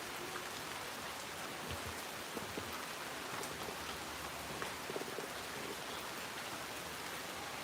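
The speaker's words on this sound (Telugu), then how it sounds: "3 రోజుల నుంచి వాయించేస్తుంది వర్షం." Steady rain falls continuously, a dense, even hiss of drops on surfaces with scattered closer patters, holding at a constant level throughout with no voices.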